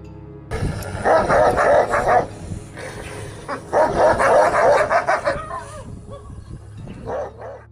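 Several dogs bark in rapid, excited bursts at wolves, with yips and whimpers between volleys, close and loud against a quiet background.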